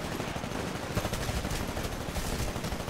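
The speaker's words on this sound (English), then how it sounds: "Not sure if I'm shooting someone." Gunfire from the video game Titanfall rattles continuously at moderate loudness, a dense stream of rapid shots with no pauses and no voices.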